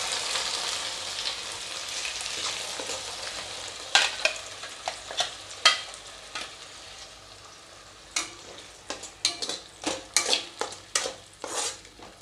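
Ground masala for dhaba-style chole fries and sizzles in a hot pan as it is stirred, a soft continuous hiss broken by a run of sharp spoon-on-pan scrapes and clicks, close and busy.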